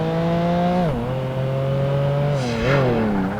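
Race car engine in Project Gotham Racing 2 holds a steady high drone, dipping as it shifts or brakes near one second and swelling again later, loud and continuous with no talk.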